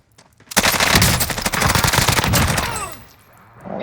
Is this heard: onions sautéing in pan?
no